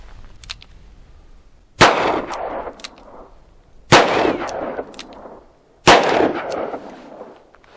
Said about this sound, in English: The first round is 38 Special, second round is 38 Special plus P, and the third round is 357 Magnum.